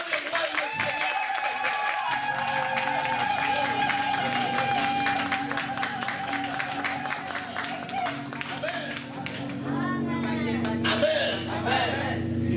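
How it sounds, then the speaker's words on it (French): A church congregation applauds and cheers in praise, with steady clapping and raised voices over sustained music throughout, and singing or calls rising near the end. "Acclame très fort le Seigneur."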